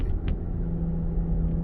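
Cabin rumble of a 2008 Mazda CX-9 driven without its drive shaft while making a left turn, a steady low engine and road drone with a faint click, no talking.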